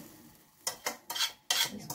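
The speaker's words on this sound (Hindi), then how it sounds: "अब मैं इसमें ये सेवैया डालूंगी जो फ्राई करके रखी थी" Fried vermicelli goes into a pot of boiled milk in a home kitchen, heard as three or four short, close bursts of rustling clatter and scraping against the pot, with no talk.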